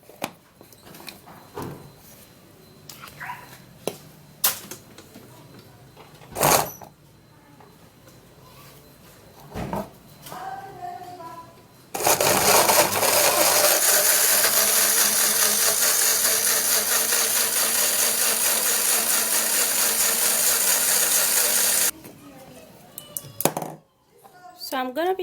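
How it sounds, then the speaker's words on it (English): A blender whirs through a skincare mixture, a loud, steady motor roar that runs for about ten seconds and then cuts off abruptly, with quieter talking and small handling noises before it. "So we're going to be blending this."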